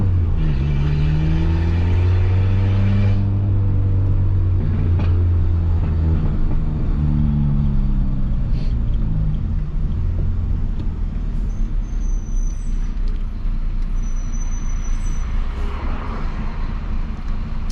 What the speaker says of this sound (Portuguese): no vídeo dá pra escutar bem os pipocos, né?